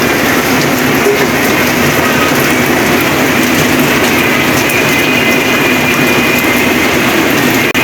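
Steady, loud rainfall hisses continuously with a low, constant rumble beneath, unbroken throughout.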